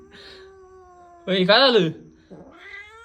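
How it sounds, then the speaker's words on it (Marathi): A domestic cat meows three times in a home, with one loud, drawn-out wail between two softer calls, close to the microphone, while a person speaks nearby. "हे पा हे मांजर आणले ना तर हे कसं करते"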